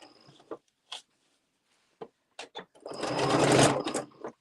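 A sewing machine stitches a fabric pocket on a Luxe Cuddle Fair Isle wrap, with a few short taps and handling noises followed by a loud, close, continuous whirring run of stitching.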